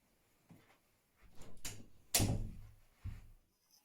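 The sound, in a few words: door of a room being pushed closed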